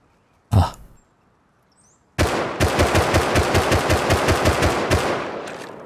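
Automatic gunfire in the survival game Rust, with a single shot followed by a long rapid burst of evenly spaced loud cracks, close and with no talk over it.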